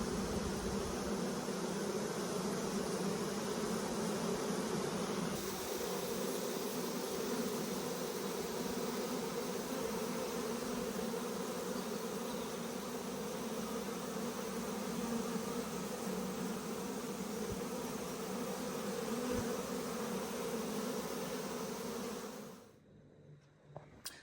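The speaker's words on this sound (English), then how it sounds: "Happy bees." Bees buzz in a continuous, dense outdoor drone during a cold, showery spell, steady and fairly loud throughout before the sound cuts off at the very end.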